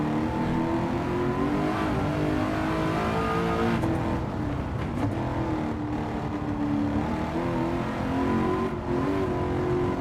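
Supercharged 5.4-liter V8 in a carbon fiber monocoque race car, heard in a racing video game: a steady, loud engine drone that holds and shifts pitch continuously, with no talk over it.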